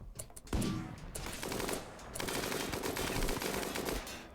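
Gunfire in the video game RimWorld, quiet rapid clattering shots running almost continuously with a short dip partway through, heard alone without talk.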